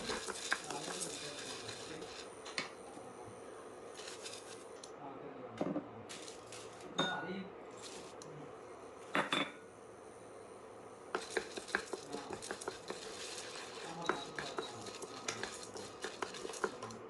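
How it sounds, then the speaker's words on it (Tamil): Lentils dry-roasted separately in a pan without oil, with a utensil stirring and scraping: soft clinks, scrapes and rustling grains, steady but low, close by, with a background hiss throughout. "தனித்தனியாக போட்டு வறுத்துக்கோங்க. இதுக்கு எண்ணெய் எதுவுமே சேர்க்க வேண்டாம்"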